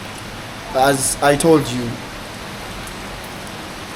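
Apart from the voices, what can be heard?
rain falling in Thailand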